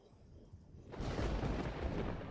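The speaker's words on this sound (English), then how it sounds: "It sounded like thunderclap, but where did it come from?" A sudden loud boom bursts in after a quiet stretch and rolls on as a broad, rumbling roar like a thunderclap, heard as a sound effect in the Everlasting Summer video game.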